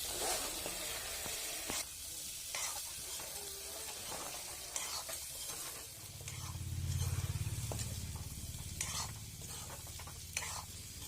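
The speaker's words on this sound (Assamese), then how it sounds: "ঢাকনিখন গুচাই আকৌ ভালদৰে 2 মিনিটমান সময় লৰাই ভাজি থাকিম।" Pork stirred and fried in a pan, a steady close sizzle with repeated scraping stir strokes and a low bubbling swell partway through.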